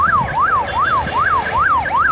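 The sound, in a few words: ambulance siren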